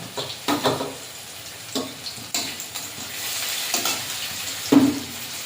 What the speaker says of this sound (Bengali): পেঁয়াজটা ভাজা ভাজা করে নিয়েছি, এবারে দিয়ে দেবো আদা, জিরে, ধনে বাটা।